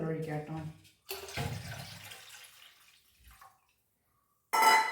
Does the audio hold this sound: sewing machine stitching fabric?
no